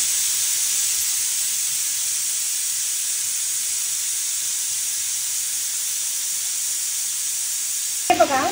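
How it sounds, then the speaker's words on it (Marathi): Onion sizzling in hot oil with turmeric, salt, chilli, bay leaf and whole spices for a South Indian crab masala, a steady close frying hiss that runs unbroken before a few brief knocks at the end. "थोडासा तेल घालून मी कांदा घालून त्याच्यात हळद, मीठ आणि थोडीशी मिरची आणि तमालपत्र मसाला, थोडासा अख्खा मसाला घालून आता चांगलं याला परतवून"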